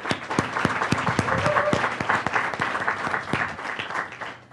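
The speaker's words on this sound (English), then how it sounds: "Let's give them a round of applause." A seated audience at an academy event gives a round of applause, with sharp individual claps standing out over a crowd clapping steadily before it fades slightly at the end.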